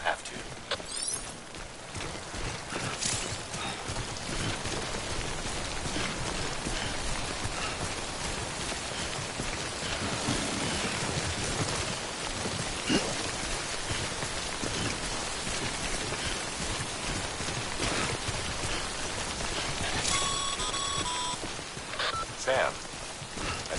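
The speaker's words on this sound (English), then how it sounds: "Don't stay out in the rain any longer than you have to." Timefall rain from the video game Death Stranding, a steady close patter of drops on surfaces with scattered sharper taps, continuous and moderately loud through the whole stretch.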